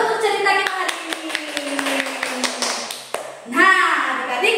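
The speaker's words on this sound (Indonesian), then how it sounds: "Tepuk tangan dulu untuk cerita kita hari ini." Children clapping for a story at a Sunday-school style session in Singkawang, a burst of scattered hand claps with talk over it and a voice rising near the end.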